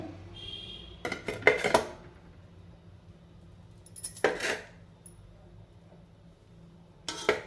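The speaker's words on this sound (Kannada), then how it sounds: "ಹೀಗೆ ಜೋಡಿಸೋಣ ಕಪ್ಗಳನ್ನ" Cake cups set down one by one inside a hot cooking pot, making a few separate metallic clinks and rattles in three brief bursts, close and fairly loud against a quiet background.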